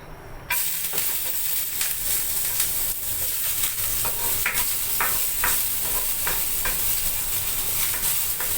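Ginger frying in a hot pan, a loud sustained sizzle and hiss that bursts in after a brief quiet start, with regular clinks and scrapes of stirring throughout.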